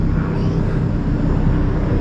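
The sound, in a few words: helicopter flying over São Paulo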